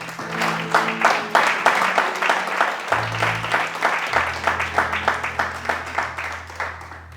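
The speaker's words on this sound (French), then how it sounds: "Nous acclamons la parole de Dieu" A church congregation claps in a steady rhythm, the loud, close applause running throughout over sustained low keyboard or organ tones.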